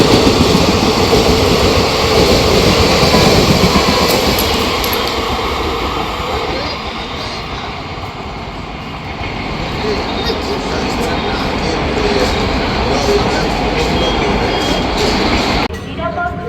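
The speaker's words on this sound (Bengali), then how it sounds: "লালগোলা প্যাসেঞ্জার। আসানসোলের WP9 এসছি।" Lalgola Passenger train hauled by an Asansol-based WAP9 electric locomotive rolls past close by, a loud, steady rumble of wheels and carriages lasting throughout, easing slightly midway before swelling again.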